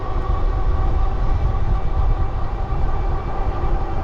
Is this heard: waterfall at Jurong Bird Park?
no